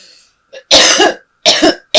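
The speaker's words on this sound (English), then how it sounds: "I've had a very bad cough for the last week, and now it's re-emerging." A person with a week-long bad cough lets out a faint throat sound and then two hard, harsh coughs in quick succession, loud and close, before a third begins.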